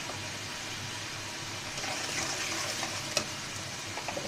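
Spice paste of ginger, cumin and turmeric frying in oil for a vegetarian brinjal dish gives a steady, close sizzling hiss, briefly louder midway, with one sharp clink of a utensil against the pan.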